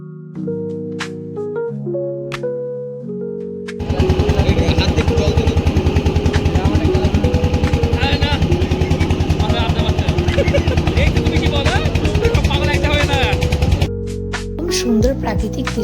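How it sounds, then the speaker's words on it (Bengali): A motor boat crosses the Chinai river, its engine settling into a loud, steady, close chugging drone after a few seconds of quieter sound. "আমরা এখন চিনাই নদীর উপর দিয়ে যাচ্ছি নৌকা পার হয়ে"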